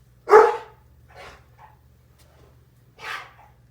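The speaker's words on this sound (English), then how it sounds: "don't know what Scarlett's barking at" A dog barks indoors, one loud close bark followed by a softer one and a third bark a moment later, over a faint steady electrical hum.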